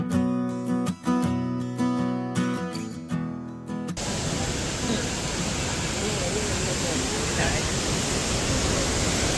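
Savatsada waterfall near Chiplun in the Konkan, heavy with rain, roaring in a dense, unbroken rush of falling water that cuts in loudly after a few seconds of music and stays constant to the end.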